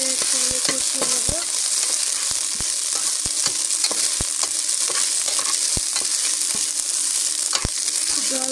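Onions and spices fried in a pan with steady close sizzling, broken by frequent sharp clicks and scrapes of a spoon stirring against the metal.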